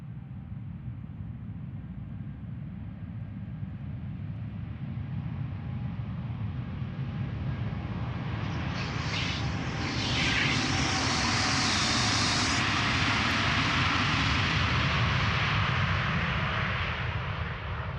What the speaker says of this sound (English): the next 787-10 Dreamliner lined up already